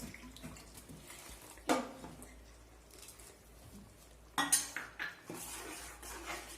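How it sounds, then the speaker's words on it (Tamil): Water poured into a cooking pot of marunthu kuzhambu, a quiet trickle broken by two sharp clanks of a utensil against the pot. "கொஞ்சம் தண்ணி ஊற்றி ஆட் பண்ணிக்கலாம்."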